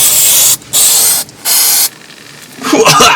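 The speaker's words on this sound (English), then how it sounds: "you shake it up, spray both sides of the headliner." Three bursts of hissing spray adhesive from an aerosol can onto a truck headliner, each about half a second, with short pauses between, followed by a rustling, crinkling sound near the end.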